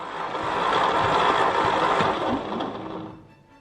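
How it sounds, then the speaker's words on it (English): A 1960 Ford F100 truck engine cranking over on the starter with a compression gauge screwed into a spark plug hole: a steady, loud churning whir that holds for about three seconds, then winds down and fades. "We cranked the engine until the reading steadied out."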